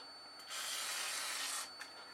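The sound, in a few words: spraying WD-40 onto aluminium before cutting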